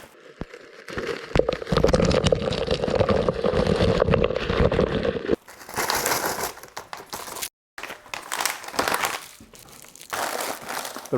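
Crinkling plastic bags and a clattering rush of frozen raspberries tumbling out into a blender, followed by a few more bursts of rattling and rustling with short pauses.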